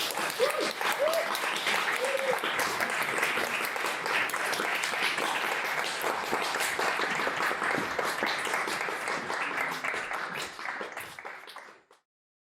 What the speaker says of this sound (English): it's so great to hear the applause of an audience that's just watched a show in a live space